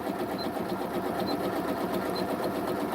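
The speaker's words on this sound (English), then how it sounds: "If I start then taking my stitch width up as I'm sewing" Janome sewing machine stitching steadily while the stitch width is adjusted, a continuous even motor whir with fine rapid needle ticking, close and quiet with no talk.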